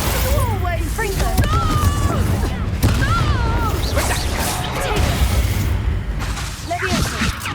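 Confringo blasting spells burst during a Hogwarts Legacy video game battle, loud booms, whooshes and crashes piling up amid chaotic combat effects while characters shout.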